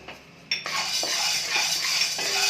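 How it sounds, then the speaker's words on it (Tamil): Soybeans dry roasting in a pan for homemade baby cereal mix, a steady rattling and scraping of beans and utensil against metal, close and fairly loud, with no talk. "இப்போ சோயா பயிர் வறுத்தாச்சு அது கூடயே சேர்த்து ஆற வச்சுக்கலாம்"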